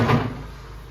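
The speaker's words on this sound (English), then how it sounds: "Door was kind of noisy." A noisy room door opening at a guesthouse in Morjim, Goa, a single close bump and scrape that fades into a low rumbling tail, with no talk over it.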